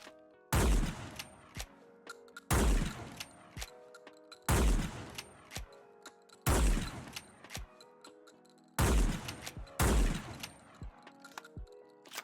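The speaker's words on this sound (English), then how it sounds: "So if you hip fire, you're going to get that flip" Modded shotgun in Fallout 4 fired from the hip, six heavy booming blasts spaced about two seconds apart, each followed by clicking and clacking of the flip reload animation, quiet between shots.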